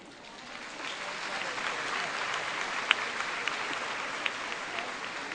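Lecture audience applauding, a steady wash of many hands clapping that swells in after a quiet start and holds at a moderate distance, with a few sharper claps standing out.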